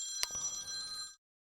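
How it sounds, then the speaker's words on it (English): A phone rings for an incoming call: a bright electronic ringtone tone at low level, a single burst of about a second that cuts off abruptly. "Sorry about that phone call."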